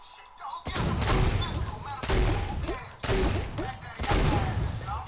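Heavy video game gunfire pours out in four long sustained bursts, loud and close, with short gaps between them.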